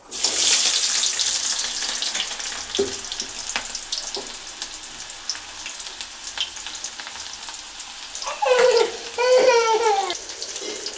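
Cumin, onions and chillies fry in hot oil with a loud, steady crackling sizzle that spatters sharply at first, then settles into a softer hiss broken by a few stirring scrapes and bursts of louder spitting near the end.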